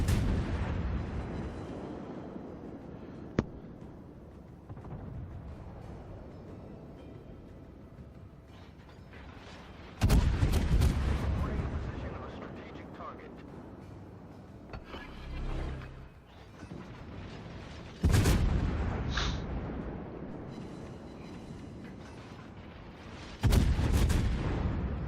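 Heavy naval guns from a battleship in a naval combat video game fire in loud, booming salvos spaced several seconds apart, each followed by a decaying rumble, over quieter mechanical creaks, with no talk.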